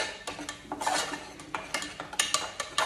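A spoon works spice paste into chili powder in a pot for a Konkan village dish, giving a run of sharp scraping clicks and knocks against the metal in an uneven rhythm, close and fairly quiet with no talk.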